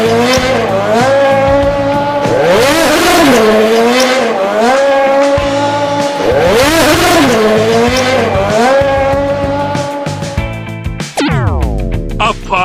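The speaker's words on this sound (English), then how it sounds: "A jeep." A jeep drives with a revving engine that rises and falls in repeated surges, loud and close, ending in a sharp falling whine.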